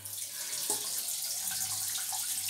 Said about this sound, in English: going to rinse it head on under the cold tap.